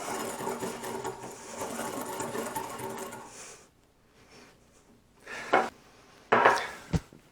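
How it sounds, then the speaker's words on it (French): Ingredients for keto mini cakes, with a pinch of salt, whisked with a whisk or fork: a fast, continuous rattling for a few seconds, then a pause and a couple of separate scraping clinks. "Mélangez ces ingrédients avec un fouet ou une fourchette."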